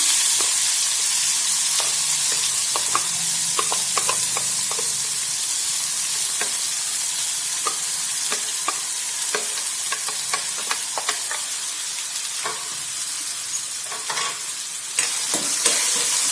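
Finely chopped onions sizzle and crackle steadily in hot oil with curry leaves, with frequent stirring scrapes and clicks throughout, close and continuous with no talking.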